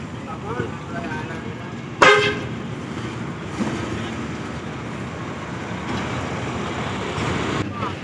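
A bus honks once, loud and close, amid steady traffic noise on a busy road, the blast standing out briefly above the rumble while background chatter continues.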